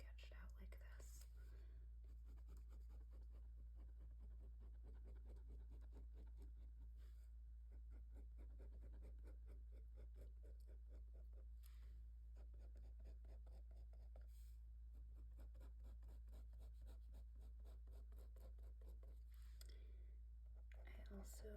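A pen scratches and scribbles across paper while doodling, a very soft, close, continuous scratching under quiet whispered talk, with brief pauses between strokes.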